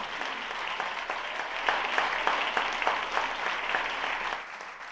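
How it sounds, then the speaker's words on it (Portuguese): Church congregation applauding during a worship service, a sustained mass of clapping from a crowd that grows a little stronger midway and carries on without any talk. "Pode aplaudir o Senhor."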